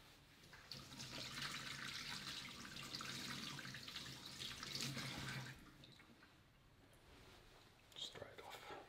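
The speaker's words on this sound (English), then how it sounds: "and then rinse it off." Tap water runs over a kimchi jar lid being rinsed at a sink, a steady close splash lasting several seconds before it stops, and a quiet voice comes through underneath.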